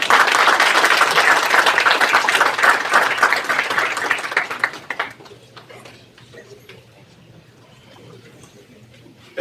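A press-conference audience at the Magic City Classic applauds a president, loud dense clapping that carries for several seconds, then fades out to a quiet room.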